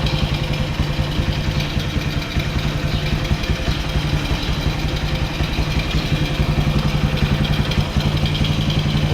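A vehicle engine, apparently a motorcycle, idles steadily after starting, with a close, even low-pitched throb and faint clattering held constant throughout, without any talk.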